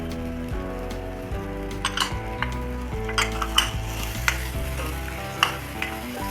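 Masala with salt, coriander, cumin and turmeric fries in oil, giving a steady close sizzle broken by occasional sharp scraping clinks of a spoon against the pan.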